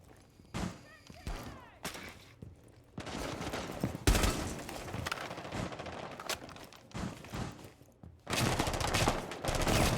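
Bursts of rapid automatic gunfire rattle in short volleys with pauses between in a video game match, mixed with thuds and faint voices in the background.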